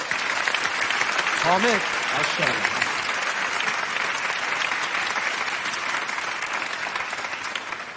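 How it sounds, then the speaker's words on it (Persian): An audience claps steadily and fairly loudly at a Quran recitation gathering, the applause dense and continuous throughout with a voice briefly heard over it. "حالا تشویق کنید."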